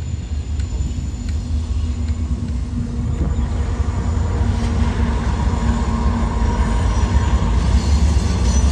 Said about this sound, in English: it's a Herzog train